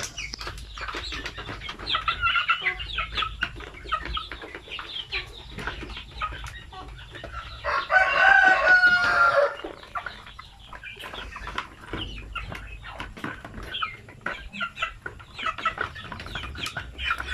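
Two-month-old native Zampen chickens cluck intermittently nearby, with a brief burst of louder fowl calls or wing flapping in the middle, against a quiet background.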